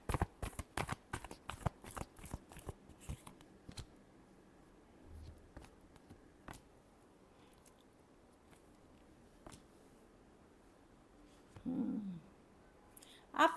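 Tarot cards being shuffled by hand, a quick burst of crisp riffling clicks at the start, then sparse faint taps and a short muffled rustle near the end, quiet and close with no talking.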